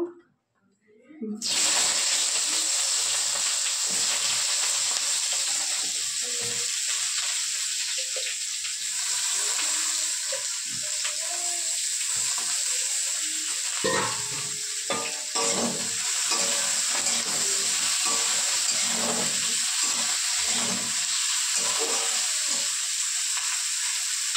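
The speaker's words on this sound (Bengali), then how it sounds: "কড়াইতে তেল দিয়ে দিয়েছি, বেগুনগুলো একটু ভেজে নেবো" Eggplant slices fry in hot oil in a wok, giving a loud, constant crackling sizzle that runs throughout, with occasional utensil scrapes and clinks.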